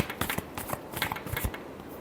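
Tarot cards being shuffled, a quick rustling, flicking burst of papery riffles close up with no voices.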